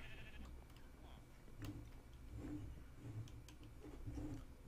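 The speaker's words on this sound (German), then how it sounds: "Und hier hinten ist ein Schaf" Sheep bleating in a video game set on a farm with a shop, several short bleats spaced through the clip over steady background game ambience, at moderate distance.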